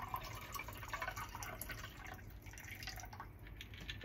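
A cocktail is strained into a faceted thrift-store rocks glass, giving a faint, continuous trickle and drip of liquid over about four seconds, quiet and close with no talking.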